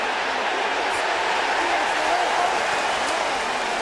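A stadium crowd roars at a 2007 Rugby World Cup match between England and Australia, a dense, loud, continuous wash of cheering with a faint voice under the noise.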